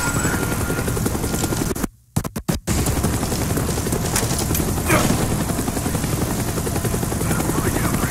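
Helicopter in the Call of Duty Black Ops video game, a loud, steady rotor thrum and engine drone filling the scene, briefly cut out by a short gap of silence before resuming.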